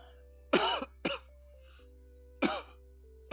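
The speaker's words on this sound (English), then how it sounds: "Coughing on the stream." Several harsh throat-clearing coughs close to the microphone, three short bursts separated by brief pauses, with a faint steady hum underneath.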